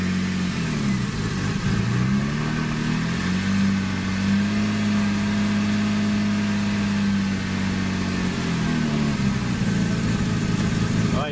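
A Porsche Cayman 987 fitted with an IPD plenum and GT3 throttle body, running with the engine cover off, rumbles loudly and steadily, its pitch rising and falling through several close revs.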